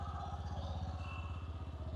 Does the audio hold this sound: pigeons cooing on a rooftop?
no